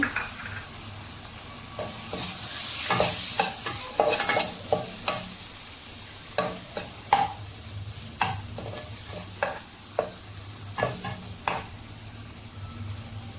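Sliced onions and tomatoes sizzle steadily in a pan for an onion egg curry, while a spoon stirs and scrapes in a loose, repeated rhythm up close, with no voices.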